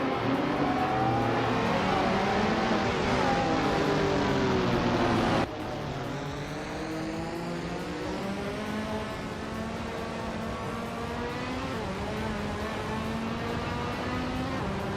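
Race cars in a racing video game accelerate and pass, their engines whining and rising in pitch with overlapping revs, steady and moderately loud throughout with a shift in engine tone midway.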